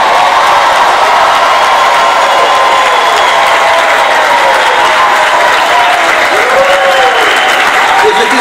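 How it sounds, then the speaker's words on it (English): A large crowd at the Fox Oakland Theater applauds the Oakland School for the Arts graduating class of 2015, loud and continuous, with clapping and some cheering filling the hall without a break. "Round of applause"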